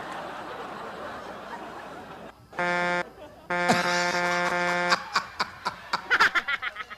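A loud horn blasts twice, a short honk and then a longer one, followed by bursts of laughter.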